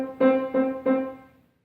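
Three eighth notes grouped into one compound-meter beat in 6/8, played on a pitched instrument: three even, evenly spaced plucked tones that ring and fade out, alone with no talk.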